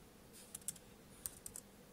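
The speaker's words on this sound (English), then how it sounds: "Keyboard works okay, and you know, there's not too much of a lag" Soft clicks of typing on a Samsung NC110 netbook keyboard, a handful of quiet irregular taps over a faint background hum, no talking.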